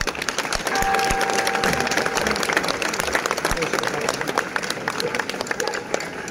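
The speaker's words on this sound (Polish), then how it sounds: "Prosimy o brawa!" Crowd applauding outdoors at the Dominican Fair opening ceremony in Gdańsk, dense continuous clapping with a few louder nearby claps and a faint whistle, steady throughout.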